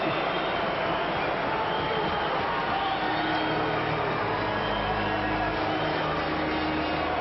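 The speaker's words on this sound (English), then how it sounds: "mixed reactions from the crowd" Arena crowd at a 1994 Olympic ice hockey game between Canada and Sweden, a dense continuous roar of mixed cheering and murmuring that swells slightly midway, steady and loud throughout.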